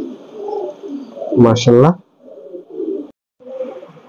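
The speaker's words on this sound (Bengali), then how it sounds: "এই যে কবুতরটা দর্শক" Soft, low murmuring coos from a Pakistani Teddy pigeon, nearby, broken by a man's brief spoken exclamation in the middle.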